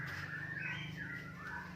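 A white-rumped shama (murai batu) calls in a sustained, warbling run of whistled notes, fairly close and steady, over a constant low hum.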